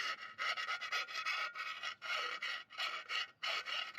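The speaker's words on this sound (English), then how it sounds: "take some of the burrs off of this side, on both sides" A file scrapes burrs off the metal edges of a pressure cooker part in rapid back-and-forth rasping strokes. The strokes are close and steady, come in short bursts with brief pauses, and no one speaks.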